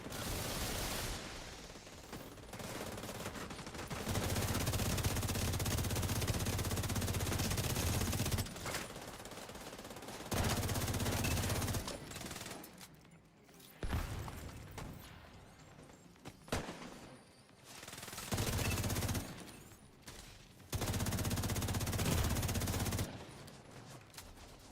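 Video game gunfire in long automatic bursts, loud rapid machine-gun fusillades separated by short quieter gaps, repeating several times.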